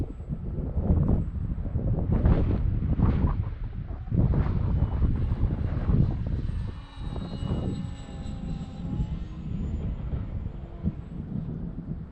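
A Conscendo Evolution electric brushless-powered RC glider flies loops and rolls, its motor whine and airflow rising and falling in long swells, mixed with heavy wind noise on the microphone.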